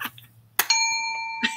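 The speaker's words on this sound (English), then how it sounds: "Here's my happy bell." A small handheld bell is struck once, giving a bright metallic ding that rings on and slowly fades, with a faint earlier tap and a light touch near the end.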